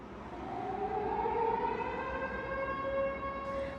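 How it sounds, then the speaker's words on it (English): A wailing neighborhood air raid siren in Shreveport rises and holds a steady drone, loud and continuous, with no voices. "every neighborhood had the sirens"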